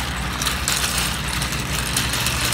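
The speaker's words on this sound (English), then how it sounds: "The sound you are hearing is a shopping cart, which is ours." A shopping cart is pushed along outdoors, its wheels making a continuous low rattling rumble that stays steady and fairly close, blended with broad background noise.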